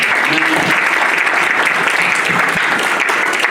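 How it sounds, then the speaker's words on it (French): A church congregation applauds and cheers for the Lord at a French-language worship service, with loud, sustained clapping and crowd noise filling the room throughout, along with some voices. "Acclamons le Seigneur."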